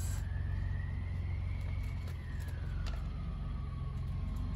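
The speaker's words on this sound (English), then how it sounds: "our neighbors have a giant surplus army truck, and every time it goes by, it sounds like there's an airplane landing" Giant surplus army truck passing by outside, a deep droning engine rumble with a rising and falling whine, steady and fairly loud throughout, heard from indoors.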